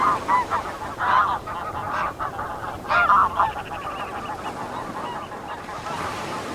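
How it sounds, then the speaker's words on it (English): Geese honk repeatedly by a coastal lagoon in Northumberland, loud clustered calls in the first half that thin out later over a steady bed of wind and surf. "you can see the geese and all sorts of birds coming in there"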